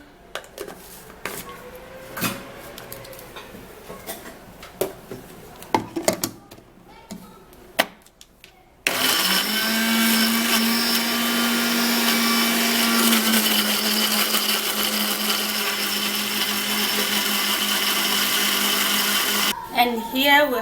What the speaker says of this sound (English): And then we're going to transfer it into a blender.